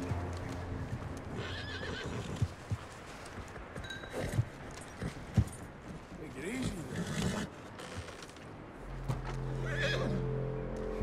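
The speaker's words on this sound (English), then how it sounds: "That looks like a decent horse." A horse neighs and whinnies in the open-world video game Red Dead Redemption 2, mixed with hoof clip-clops and other game effects while people talk through most of it.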